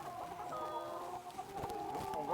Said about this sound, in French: Donc là, ce sont des poules rousses.